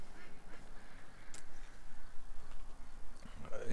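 Ducks quacking in scattered calls while being fed outdoors, heard fairly faintly over a steady rustling background, with occasional louder calls near the end.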